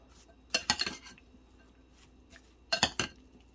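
A spoon clinks and scrapes in bursts against a bowl while an avocado and tomato salad with fresh lemon juice is tossed, in two short clusters of clatter with quiet between.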